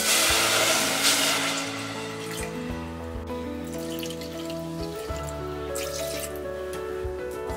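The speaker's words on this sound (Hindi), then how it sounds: "हमने गैस ऑन कर लिया है, पैन में डालेंगे ये 2 कप पानी।" Two cups of water pour into a pan over a lit gas stove, a close, bright splashing rush that settles into a softer trickle and drip over several seconds, with no talking.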